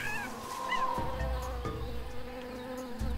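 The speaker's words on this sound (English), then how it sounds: "Bee." A bee buzzes in a jungle scene of the Tales of Monkey Island video game, a wavering drone heard alone over soft game ambience with a few low thumps.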